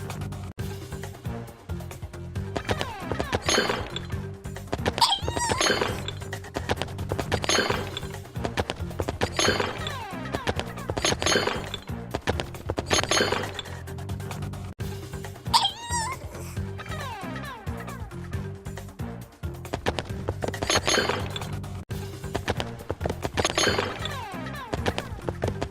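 In the Wild Kratts online game Rhino Bowl, rhino power suits smash Zackbots, giving repeated crashing, shattering impacts in an irregular rhythm over busy game sound effects and music, with no voices.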